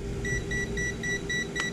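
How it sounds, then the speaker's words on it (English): A digital multimeter beeps in an even series of short, faint electronic tones while overloaded in a lab, about seven pulses at a steady rhythm over a low hum, with no talk. "And it beeps at me because I'm overloading it."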